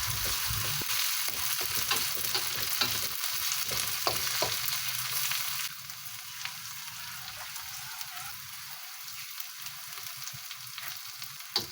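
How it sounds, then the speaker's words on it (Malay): Ground chili paste frying in oil with wilted onions in a pan, a dense continuous sizzle with occasional stirring scrapes, loud at first and easing slightly halfway through. "Sehingga cili tu pecah minyak."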